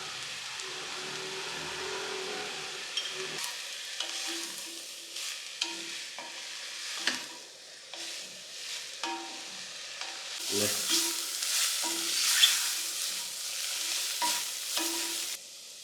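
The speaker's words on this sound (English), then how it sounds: "Now once the mushrooms are nicely sauteed, I added corn flour and milk to it and cooked for a while." Mushrooms sauté and sizzle in a pan with salt while a utensil stirs them, giving a soft, steady frying hiss with repeated scraping strokes that grow busier and brighter toward the end.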